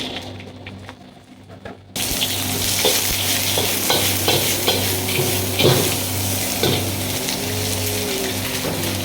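Quail pieces stir-fried with a little oil, onion, kaffir lime leaves and red chili hiss loudly after a quieter opening, with frequent spatula scrapes and clinks against the pan up close, no voices.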